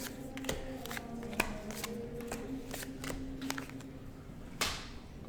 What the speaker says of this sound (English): Just going to put these cards back.